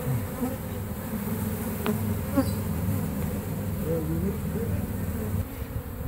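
Dense, steady drone of a large mass of honeybees swarming during a hive removal from a mobile home in Lakeland, Florida, loud and close throughout with individual bees whining past, and no voices over it.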